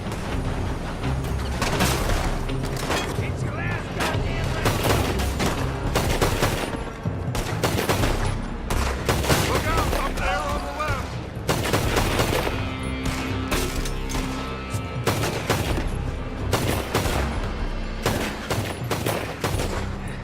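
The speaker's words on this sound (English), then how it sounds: "They're shooting from that building!" Gunfire pours from a building in the Red Dead Redemption 2 video game as a dense fusillade of rapid rifle and pistol shots cracks without pause, loud and layered, with overlapping bursts throughout.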